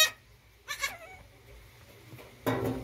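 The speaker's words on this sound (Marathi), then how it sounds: "तर बघा मित्रांनो ती शेळी येईल" A goat bleats in short bursts, three cries spread apart, close and clear against a quiet farmyard background.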